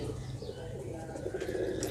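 Soft, low pigeon cooing, a few murmuring calls close by, with faint handling noise in the background.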